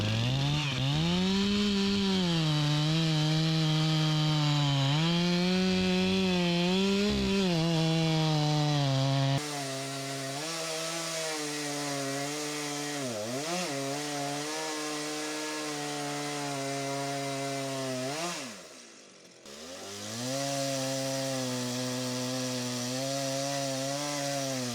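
A Husqvarna chainsaw cuts into a tree stump grown into concrete, a loud, steady whine with wavering pitch as the chain bogs and recovers, briefly dipping near the end before rising again.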